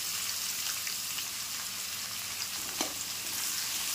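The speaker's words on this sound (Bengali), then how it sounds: "পেঁয়াজটা হালকা ব্রাউন করে ভেজে নেব।" Chopped onions fry in a kadai for chicken, a steady close hiss and crackle of hot oil with a faint clink of a utensil, no voices.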